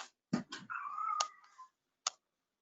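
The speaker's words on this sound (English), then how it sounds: "I wonder if y'all can hear my cat in the background." A pet cat named Moon meows in the background, giving one long drawn-out call after a couple of short chirps, with a brief chirp after it. The sounds are fairly faint and heard without any talk.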